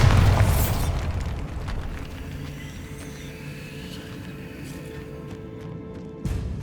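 A Bombarda spell explodes in the Hogwarts Legacy video game: a heavy boom at the start fades into a long rumbling tail with scattered debris crackles, then a second sharper thump near the end.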